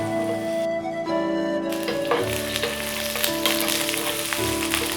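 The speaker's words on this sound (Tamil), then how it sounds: "எண்ணெய் சுட்டுருச்சுங்க வெங்காயம் போட்டுக்கலாம்" Onions dropping into hot oil and frying for a chilli chicken dish, a loud bright crackling sizzle that swells as they hit the pan, near and continuous over a faint background hum.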